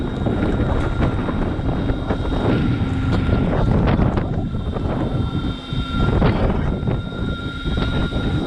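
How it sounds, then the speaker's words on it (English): Strong wind rushes and thumps against the microphone over a low engine drone from a homemade speedboard at half throttle, high up; loud and constant with gusty swells. "And it's windy up here."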